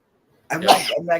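A single sharp sneeze bursts out after a moment of silence, close and loud, followed directly by a person speaking.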